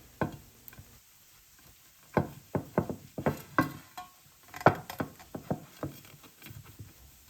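Onions cooking in a buttered pan for a boulangère potato gratin: a spatula clacks and scrapes in an irregular run of close, sharp knocks, with a faint sizzle underneath between the strokes.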